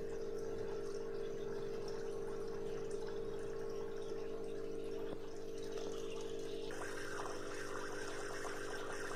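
Water draining out of a tarpaulin catfish pond, a steady continuous rush with an even pump-like hum running the whole time, with no talking.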